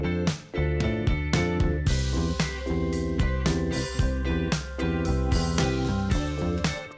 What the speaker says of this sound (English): now we're going to add in the deep 808 bass